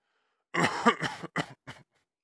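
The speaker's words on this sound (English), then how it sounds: "She coughed up some blood" A few harsh, wet coughs from a dying female character in a fantasy audio drama, three or four bursts in quick succession, close and clear against silence.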